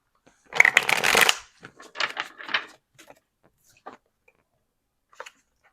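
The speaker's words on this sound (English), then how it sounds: "I'm gonna shuffle a couple more times." Tarot cards being shuffled close up: a dense riffle burst, two shorter shuffling bursts, then scattered soft card taps and slides.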